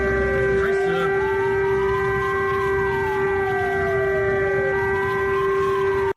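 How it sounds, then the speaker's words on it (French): A civil defense siren wails continuously on the Chinese coast, its pitch rising and falling in long slow sweeps over a loud steady drone. "des sirènes retentissent sur la côte chinoise"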